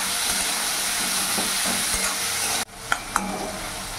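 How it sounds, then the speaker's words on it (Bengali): Two spoons of ginger garlic paste fry and get stirred in a pan over a low flame, giving a dense sizzle with spatula scrapes that cuts off abruptly, followed by quieter frying and two sharp utensil clicks. "এর সাথে আদা রসুনের পেস্ট আমি 2 চামচ দিয়ে দিলাম। ভালো করে মিশিয়ে নেব।"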